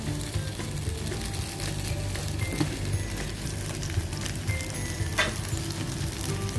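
Chicken feet sautéing in a pan for Filipino chicken feet adobo, a dense, steady sizzle and crackle of frying that runs without pause throughout, close and fairly loud, with no talking.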